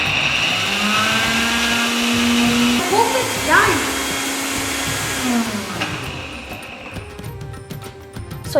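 A kitchen blender whirs with a strong, whining motor hum, grinding blanched almonds and cashews soaked in warm milk into a paste; its pitch wavers as the load shifts before the motor winds down and rattles near the end.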